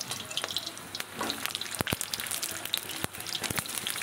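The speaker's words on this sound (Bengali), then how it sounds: "এবার লাল লাল করে আলুগুলো একটু ভেজে নেব।" Potato pieces frying in a generous amount of hot oil in a pan, a steady close sizzle broken by sharp crackles and pops, with no talking over it.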